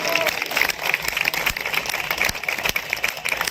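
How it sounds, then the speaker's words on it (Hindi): Loud, dense applause from a crowd at a nautanki folk theatre performance in Chattar Manzil, Kaiserbagh, Lucknow, continuous clapping filling the room with no break. "एक बार जोरदार तालियां"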